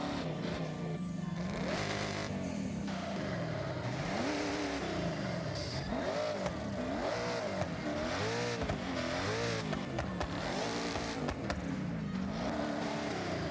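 A fully upgraded car in Forza Horizon 5 revs hard and continuously, its engine and exhaust rising and falling in repeated swells with a rough, buzzy edge, loud and steady throughout.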